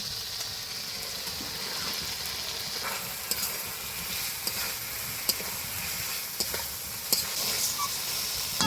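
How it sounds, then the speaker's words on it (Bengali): Fried fish and potato stir-fried together in spiced oil in a pan, a steady soft sizzle with occasional sharper clicks and scrapes of stirring, no talk. "আজকে ভেজে রাখা মাছ আর আলুটা একসঙ্গে কষিয়ে নিব।"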